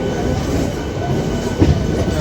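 The Malda–Howrah Intercity Express running via Rampurhat, a steady rumble of train wheels and carriage noise heard from on board, continuous and close.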